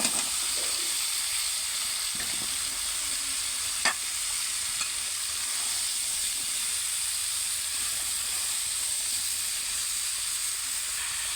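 Pumpkin pieces fry in a pan with dried chillies as part of a home-cooked Bengali vegetable dish, giving a steady, close sizzle with faint hiss throughout and one brief scrape near the start.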